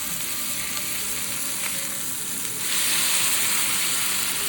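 Anjal fish, Mangalore style, sizzles in oil on a hot tawa with a steady, close crackling hiss that grows slightly louder partway through; no one speaks.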